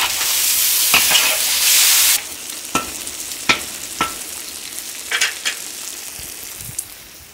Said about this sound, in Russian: Я солю мясо, пока оно жарится.